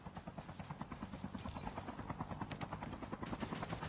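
A helicopter in the Call of Duty Mobile battle royale gives off a steady, rapid rotor chop that stays fairly faint and constant, with no talk over it.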